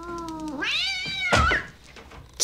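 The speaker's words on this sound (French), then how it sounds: "C'est devenu un casse-couille, le chat." A cat gives one long, rising and falling meow up close, followed by a brief rustle and a short sharp noise at the end, in a scene from the 1989 horror film Pet Sematary.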